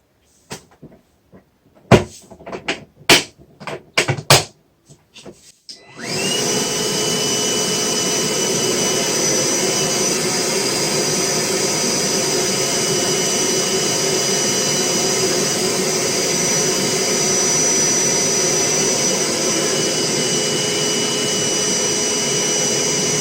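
A Milwaukee vacuum cleaner, with a rubber-covered switch, is handled with a few sharp clicks and knocks before starting up, then runs at a loud, steady, high whine for the rest of the clip with no talking.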